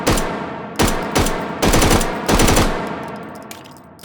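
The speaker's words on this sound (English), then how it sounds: "I'll fire it off semi and then full" A gun in the VR shooter H3VR fires loud, close shots, first single spaced ones, then quicker rapid bursts. A decaying echo tails off at the end.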